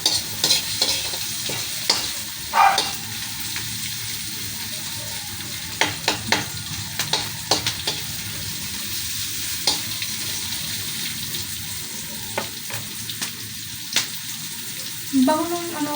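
Onion sautéing with garlic in a pan for a Filipino home-cooked dish, a steady close sizzle of frying broken by scattered stirring scrapes and clicks, with no talking.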